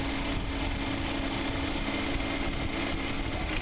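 A car engine with a badly leaking front valve cover idles steadily without a break, a constant mechanical hum holding at one even level throughout.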